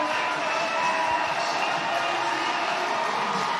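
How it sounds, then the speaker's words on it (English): A big stadium crowd at a women's Rugby World Cup match roars steadily, a dense wash of distant cheering that holds at an even level throughout. "letting that crowd noise go for everybody, just cheering her on"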